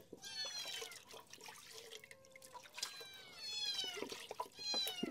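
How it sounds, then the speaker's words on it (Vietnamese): A hungry cat meowing repeatedly in a rural Vietnamese home, several insistent meows close by, rising and falling in pitch, with faint dripping water and light background clatter between the calls. "Mèo thì có vẻ là đang đói rồi các bác à, rất là kêu bây giờ ấy."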